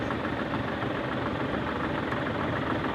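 A David Brown 50D tractor runs at a steam rally in Shrewsbury, its engine giving a steady, loud, rumbling idle with a rough knocking texture throughout.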